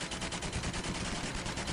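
A Browning M1917 heavy machine gun, a .30-06 water-cooled weapon, fires a steady sustained burst, a dense continuous rattle of rapid shots heard at moderate distance with no talking.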